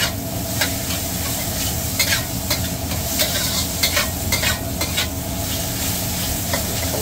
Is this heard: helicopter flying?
no